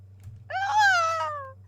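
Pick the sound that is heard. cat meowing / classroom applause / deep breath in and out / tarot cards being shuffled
cat meowing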